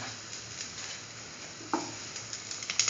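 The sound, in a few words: food frying in a pan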